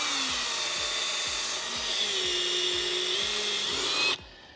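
A drill bores a hole with its supplied bit that carries a cloth bumper, whining steadily with a rhythmic ticking under it, then stops abruptly near the end.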